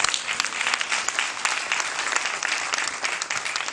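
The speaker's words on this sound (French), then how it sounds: "Avec vos applaudissements s'il vous plaît." Loud, dense applause from an evening show audience in Congo, continuous clapping from a large crowd filling the room without a break for several seconds.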